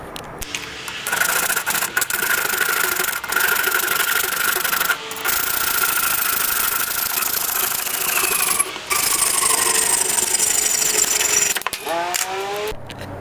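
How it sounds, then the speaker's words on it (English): A hand saw cuts through an 80/66cc bike muffler held in a vise. The stroke is sped up into a continuous, fast, gritty rasp, loud and close, broken by a few brief pauses. "You want to saw right beneath that."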